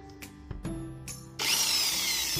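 A few scraping and clanking knocks of a hacksaw blade against a buffing pad, then the buffing machine starts up with a loud, steady high-pitched whine that runs to the end.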